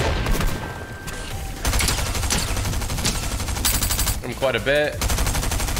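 Rapid automatic gunfire in a Fortnite match, dense bursts crackling nearly throughout, with a brief pause and some whooshing game effects near the end while a player talks over the action.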